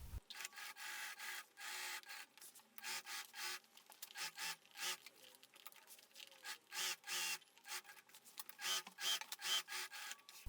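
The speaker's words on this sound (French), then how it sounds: "je vais venir coudre les 2 couches ensemble envers contre envers dans la valeur couture" A sewing machine stitches two lining layers together, wrong sides facing, on a backpack front: quiet, close bursts of rapid mechanical rattling that start and stop in short runs.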